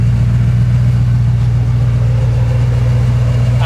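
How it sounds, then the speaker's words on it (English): A 1981 Chevrolet Camaro Z28 idles with a loud, close, deep exhaust rumble, steady and unbroken with a throbbing low-end pulse. "Listen to that exhaust."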